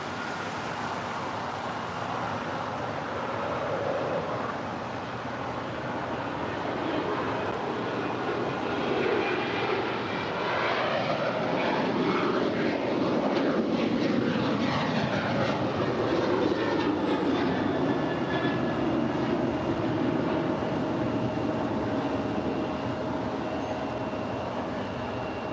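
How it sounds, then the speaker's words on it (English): An Alaska Airlines Boeing 737-900ER in oneworld livery departs from the south side at LAX, its jet engines building into a loud, sustained roar that swells and holds steady across the whole stretch, with no voices. "737-900ER. It will be the next departure here on the south side."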